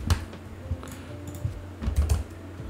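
Fingers tap out a quick, irregular burst of keystrokes on a computer keyboard, close and fairly soft, with uneven clusters of clicks and no talking.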